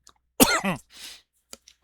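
A man coughs harshly twice in quick succession, then gives a softer breathy follow-through and a couple of small clicks, close and alone with no other sound around it.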